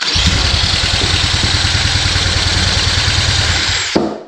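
A 1970 Honda CL100 motorcycle that had been seized runs loud and close on electric start, its engine chugging in a steady, fast rhythm. It cuts out abruptly near the end.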